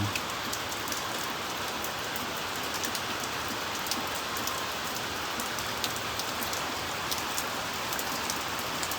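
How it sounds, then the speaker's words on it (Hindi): Steady May rain pours down in Dehradun, a dense even hiss of drops striking surfaces all around, with no talking. "ये देखो बारिश चालू हो गई है"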